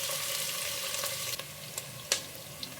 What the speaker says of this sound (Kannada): ಸ್ವಲ್ಪ ಗೋಲ್ಡನ್ ಬ್ರೌನ್ ಬರೋವರೆಗೂ ಫ್ರೈ ಮಾಡ್ಕೊಳ್ಳಿ.